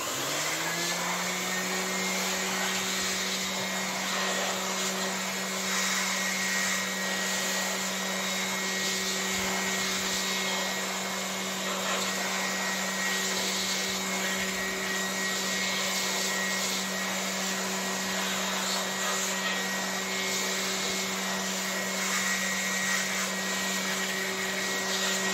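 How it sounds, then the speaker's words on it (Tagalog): An electric air blower cleans out a PC during maintenance, its motor spinning up quickly and then holding a loud, steady whine with rushing air for the whole stretch. "ngayon pwede naman nating i-blower"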